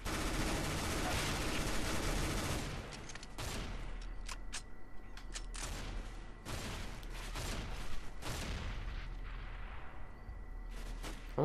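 A P90 submachine gun fires in the game CS:GO, rapid sustained bursts of automatic gunfire with short gaps between volleys, loud and close throughout.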